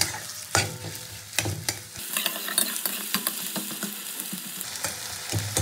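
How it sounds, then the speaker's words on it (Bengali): Onions sizzle steadily in a hot pan while a spatula stirs them, with sharp scraping strokes near the start and a continuous close frying hiss throughout. "পেঁয়াজটাকে খুব ভালো করে প্রথমে আমি ভেজে নেব"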